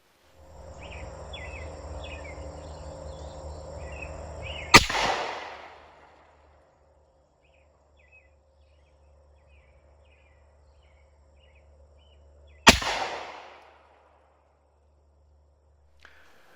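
Two sharp, loud rifle shots from a rifle fitted with a Hi-Lux CMR 1-8x scope, firing match grade ammo at a tack on a range, about eight seconds apart, each with a short echoing decay over quiet outdoor insect and bird background.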